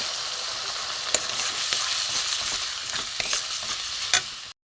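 Turmeric, coriander, cumin and red chilli powder being sautéed together in a pan for chicken kofta curry, an even sizzle broken by sharp spatula taps and scrapes, then an abrupt stop.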